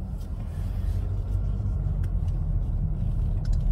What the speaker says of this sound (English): There's not a lot of sound on the inside, like whenever the car moves.